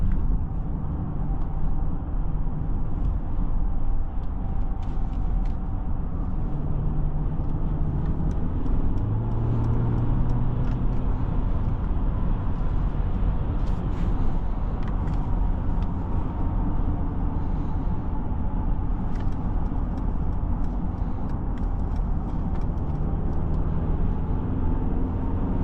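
Cabin of a 2021 Mercedes-Benz GLE 350 in good condition with 39,000 miles on the road: a smooth, steady low road and engine hum that continues throughout, with faint ticks and bumps over it.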